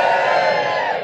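A live comedy audience cheers and whoops loudly at a stand-up show, a dense burst of many voices that sustains briefly and then begins to fade.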